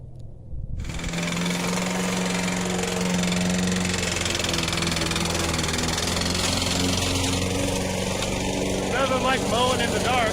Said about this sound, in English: Nothing like mowing in the dark.